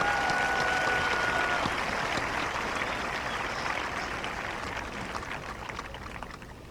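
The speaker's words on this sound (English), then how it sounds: "let's give them one more round of applause for their talent." A large graduation audience at a high school ceremony applauds the band and choir, with sustained, crowded clapping that slowly fades, and a brief tone near the start.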